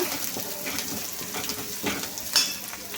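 Chopped onion, tomato and green chili sizzle steadily in a hot pan, with occasional scrapes and stirs of a spoon against the metal and a light clink near the end.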